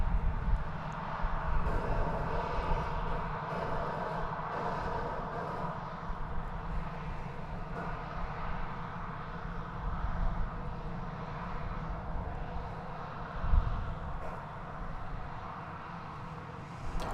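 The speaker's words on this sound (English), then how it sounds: "This Airbus A321 is going to San Francisco, the city adjacent to the bay." Airbus A321 airliner bound for San Francisco at DFW Airport, a steady, moderately distant jet rumble that holds evenly throughout with a slight swell near the end.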